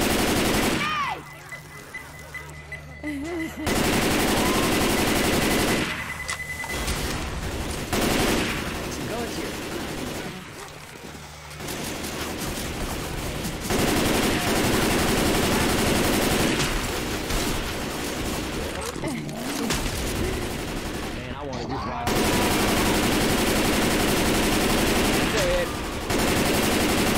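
Sustained gunfire in the Left 4 Dead 2 survival mode at the gun shop, with long loud bursts of automatic weapons broken by brief lulls, while several voices talk over the shooting.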